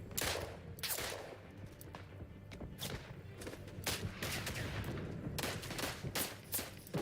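Gunfire in the World War I shooter Isonzo: repeated rifle and machine-gun shots crack out at irregular intervals, some near and sharp, others more distant, over a low rumbling battlefield background.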